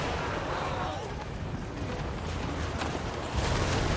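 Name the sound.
artillery cannons firing in Total War: Warhammer 3 battle (video game)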